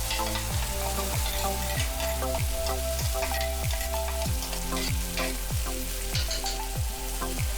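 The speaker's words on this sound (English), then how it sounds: "Then add 1 tomato chopped and fry this until the tomato is soft" Chopped tomato and Jeerem Meerem masala frying in a pan for Goan fish curry: a steady, loud sizzle with rhythmic scraping strokes of a spoon stirring the mixture, close by, with no talking.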